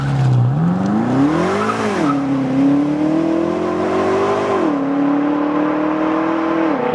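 A rear-wheel-drive BMW M5 F10 driven hard: the engine revs rise and fall in long sweeps through shifts, with tire squeal, loud and continuous with no speech.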